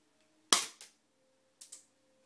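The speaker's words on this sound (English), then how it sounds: "So I'm just going to shoot a bullet, just to show you guys." A spring-powered BB gun fires in a quiet room: a sharp snap is followed by a quick softer echo, then another pair of fainter snaps about a second later.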